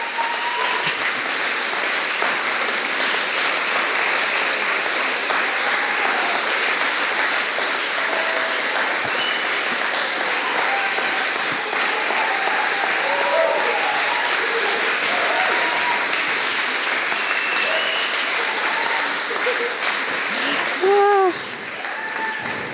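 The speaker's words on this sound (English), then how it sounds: "Would be nice to hear such an applause every time you kiss" Wedding guests applaud the newlyweds' kiss at the ceremony, a long sustained wave of clapping from a crowd with scattered voices and cheers mixed in, steady and loud throughout.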